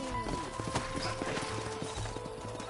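Horses clip-clopping at a trot in the Red Dead Redemption video game on PS5, with a rapid, regular rhythm of hoofbeats close by and brief game dialogue faintly underneath.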